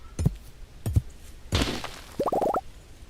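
A pickaxe breaks apart a meteorite in the farming game Stardew Valley, with a few dull thunks followed by a quick run of bright cracking chimes, all fairly soft.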